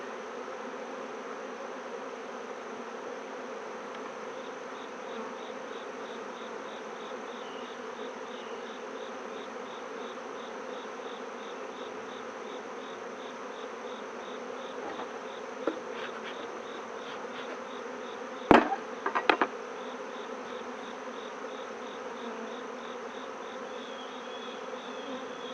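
Honeybees buzz in a steady, continuous drone throughout a beehive inspection, with a couple of brief clicks and knocks from handling the hive partway through.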